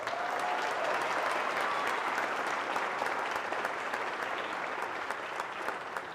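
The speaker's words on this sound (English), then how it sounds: "Let's give them another round of applause." Audience applause fills a high school senior awards night, a dense, steady wash of many hands clapping at full strength for about six seconds with no speech over it.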